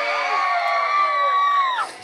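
A large crowd at a live show lets out a sustained, loud mass squeal and cheer on cue, holding a high pitched wail for nearly two seconds before it breaks off abruptly.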